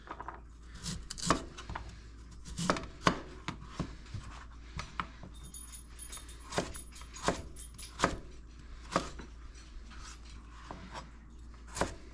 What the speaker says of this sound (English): Gonna cut it into little cubes.